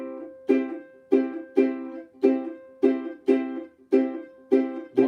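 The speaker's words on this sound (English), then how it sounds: "we're just going to do that clave rhythm now" Swing-style ukulele chords strummed in a syncopated clave pattern, each bright strum ringing out and fading before the next, repeated over several bars.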